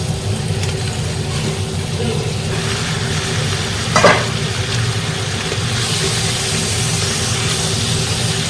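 Pork frying in oil in a pan for a bamboo shoot and pork dish: a constant, moderate sizzle under a low background hum, with one brief clink partway through.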